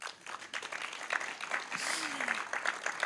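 Audience applause at a 2021 tribute evening for Boris Cavazza, following a trio's performance; scattered claps build into steady clapping across a few seconds, with some voices and a gliding tone underneath.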